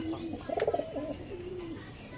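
Chennai pigeons of the Punjabi Malbahi type coo close up, a soft trilling burble that rises into a quick pulsing flutter and then settles into a drawn-out low murmur.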